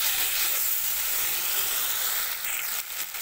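Spice mix frying in a pan for a vegetarian banana flower curry, a steady bright sizzle and hiss heard close up and alone, thinning slightly near the end with a few faint clinks.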